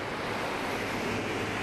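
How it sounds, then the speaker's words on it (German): Small artificial waterfalls rush through a fish ladder beside a hydroelectric dam in Brazil, a steady, dense broadband roar of falling water with no pauses. "Hier werden kleine Wasserfälle simuliert, die die Fische anlocken sollen."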